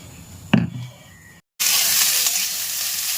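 A light, faint hiss and a single clink come first, then after a brief silence a loud, steady sizzle of oil in a pan fills the rest.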